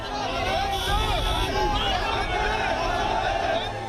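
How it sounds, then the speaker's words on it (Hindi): A large crowd gathered for General Bipin Rawat's funeral procession makes a loud, continuous babble of voices and chatter, with a few louder calls rising out of the din. "जनरल बिपिन रावत के आखिरी सफर के लिए जुटी लोगों की ये भीड़"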